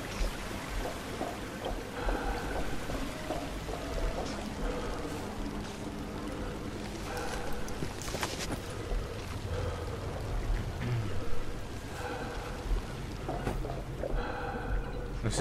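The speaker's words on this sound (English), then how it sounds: "This is where they flush the chemicals." Chemicals flushing down a drain in a lab area of the video game We Happy Few, a steady rushing, pouring water sound with a dense wash throughout and a few louder surges, no talk.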